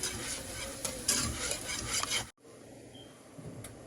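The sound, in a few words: whisking flour into gravy in a pan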